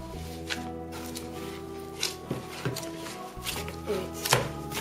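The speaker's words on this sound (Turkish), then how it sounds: "Biraz daha yoğurmamızda fayda var." Bread dough being kneaded by hand for katıklı ekmek, with soft irregular thumps and squishes under a steady background hum and faint music, no voices.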